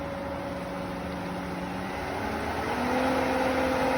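A swimming pool pump motor starts up at 1800 RPM with a steady hum and tonal whine whose pitch steps up partway through, loud and close.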